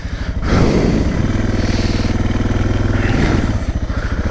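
A Suzuki DR650 dual-sport motorcycle being ridden, its single-cylinder engine loud and close with a steady, throbbing drone that rises slightly in pitch midway and then settles back.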